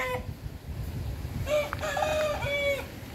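Free-range chickens in a spacious yard clucking close by, with a rooster's crow rising through the middle and trailing off, against a steady outdoor background hum.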